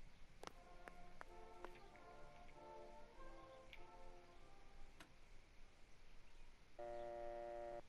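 A telephone in the game Martha Is Dead is dialed. Sharp clicks and short toned beeps fall unevenly over several seconds, and then a steady ringing tone sounds. It is quiet, with a faint background hiss.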